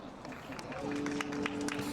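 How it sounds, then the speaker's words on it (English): Faint, sparse applause: a few scattered handclaps rise from a small audience over a low background murmur. "A nice smattering of applause."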